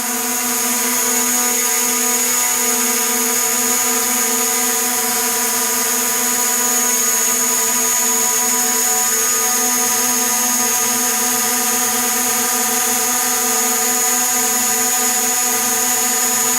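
A DJI Mavic Pro drone running on a modded battery gives off a steady, high-pitched propeller whine with strong tonal hum, loud and close, holding constant throughout.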